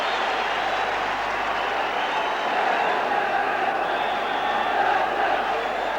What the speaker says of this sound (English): That massive crowd behind that goal as the corner's taken